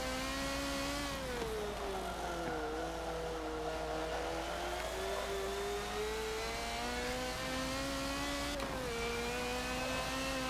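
From inside a Ford Fox body Mustang, the engine revs and holds a strained, buzzy drone, rising and dipping through gear changes, steady and close with no voices over it.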